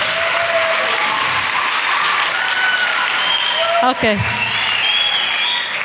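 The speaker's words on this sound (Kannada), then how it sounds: "ಇನ್ನೊಂದು ಸತಿ ಜೋರಾಗಿ ಚಪ್ಪಾಳೆ ತಟ್ಟುತ್ತಾ" Sustained loud applause from an audience at a Christmas celebration and cultural program in Davanagere, steady throughout, with a brief spoken word near the end.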